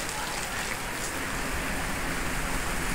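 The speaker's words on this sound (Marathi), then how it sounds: "पावसात खूप पाऊस झालेला आहे" Steady, dense rainfall hisses without pause, a heavy downpour drumming evenly on surfaces for the full length.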